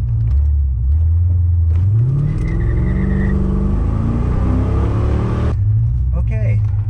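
The Tack Hammer car launches on a drag test run, a loud close engine rumble revving up through rising gears and then cutting off abruptly, with a brief voice afterward.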